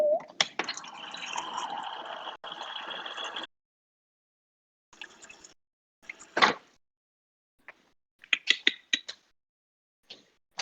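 Water runs into a glass for about three seconds, a steady close pour, followed by a few scattered knocks and clinks in an otherwise quiet room.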